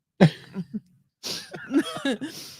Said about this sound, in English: over here coughing up a lung